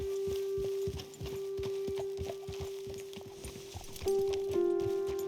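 Horse hooves clip-clop in a steady walking rhythm, close and clear, over a constant tonal hum, with the pace briefly overlapping near the end, in the video game Red Dead Redemption 2.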